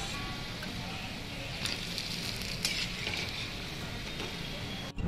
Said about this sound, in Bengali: এইভাবে লাল লাল করে ভেজে নিয়ে আস্তে আস্তে ঠান্ডা জলে এটাকে ছেড়ে দিতে হবে।